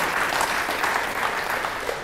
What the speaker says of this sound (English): Let's give a round of applause to all the people who worked on organizing this conference.